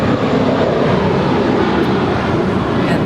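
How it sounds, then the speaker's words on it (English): A seven-year-old JetBlue Airways Airbus A321 jet at LAX gives off a loud, continuous broadband roar that stays steady and close throughout. "it's JetBlue Airways 1124 heading to JFK, a 7-year-old A321"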